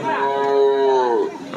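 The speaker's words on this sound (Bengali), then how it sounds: "এই যে ষাঁড় গরুটা আমরা দেখিয়ে দেওয়ার চেষ্টা করি" A bull at a busy cattle market gives one long, loud moo close by, rising and then trailing off.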